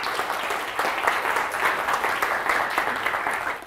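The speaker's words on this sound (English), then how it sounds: "A round of applause, of course," A lecture hall audience at a Harvard Extension computer science class claps for a student, steady, fairly loud applause with no talk.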